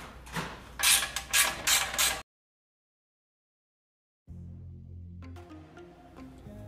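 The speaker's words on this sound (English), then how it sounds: "There's another clamp here that connects the head pipe to the cross under piece, so we can go ahead and loosen that clamp up" A ratchet works a 9/16 clamp loose on the head pipe of a Harley motorcycle, a burst of quick close clicking, a pause of silence, then more clicking and metallic handling.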